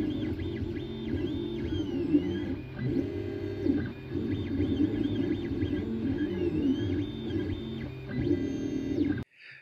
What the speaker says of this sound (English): then went on to print the entire new adapter plate